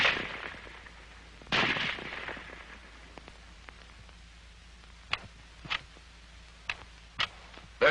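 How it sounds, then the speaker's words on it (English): Scattered sharp reports from an M1 Garand semi-automatic rifle, fairly faint and distant, several single shots spaced unevenly with quieter ticking sounds between them. "The rifle will fire each time the trigger is pressed until the magazine is empty."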